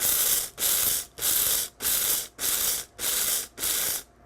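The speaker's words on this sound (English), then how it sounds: "Don't ever hold the button down completely because you're gonna disintegrate it and turn it into dust. But you're simply gonna pulse it multiple times" Blender pulsing rice into grits, seven short even bursts of whirring grind separated by brief pauses, loud and close, with no talk.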